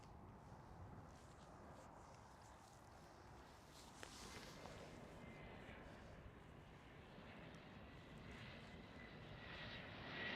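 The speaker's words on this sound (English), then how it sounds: "Right now, KLM City Hopper E175 landing" A KLM Cityhopper Embraer E175 airliner lands at Amsterdam Schiphol, its distant jet roar a broad, steady wash that slowly grows a little louder toward the end.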